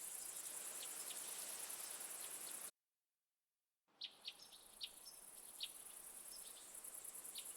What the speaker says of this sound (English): cricket orchestras